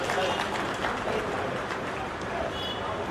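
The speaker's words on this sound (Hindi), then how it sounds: "सभी किसान भाइयों से मैं स्वागत करूंगा कि डॉक्टर सुधीर का तालियां बजाकर स्वागत करें।" Farmers at a vegetable expo clap together to welcome the chief guest, a dense, steady wash of many hands heard for a few seconds, with faint crowd noise and voices around it.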